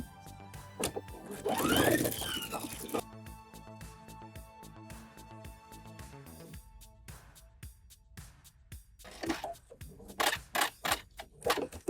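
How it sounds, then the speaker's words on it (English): Sewing machine stitching two fabric pocket bags together around a U-shaped seam, a loud fast whirring run early on, then a steady hum broken by shorter bursts of stitching and handling clicks. "we're going to sew around this U shape with our 1/2 inch seam allowance. Time to sew these pocket bags together."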